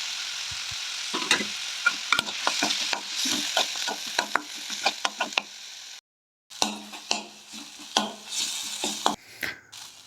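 Chopped tomatoes sizzle steadily in a hot pan while a utensil stirs and scrapes with repeated taps, briefly cutting out before the frying resumes.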